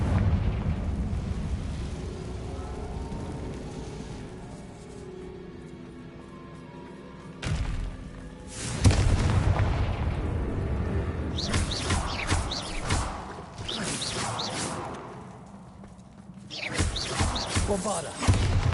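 A Confringo blast spell exploding in Hogwarts Legacy, with heavy booming bursts and crackling debris breaking through a low rumbling game ambience, interspersed with quieter stretches.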